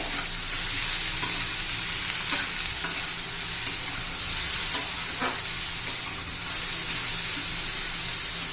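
Okra frying in a pan while being stirred, a steady close sizzle with light scraping of the spoon running throughout, no voices.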